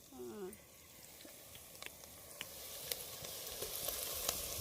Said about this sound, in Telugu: ఉల్లిపాయలు అయితే బాగా ఫ్రై అవుతున్నాయి కదా.